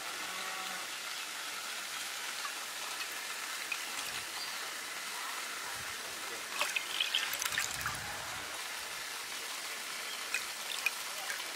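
Sap water from a banana stem trickles steadily into a cup in a continuous, hissing stream, a little like rain, heard close and alone with faint outdoor background.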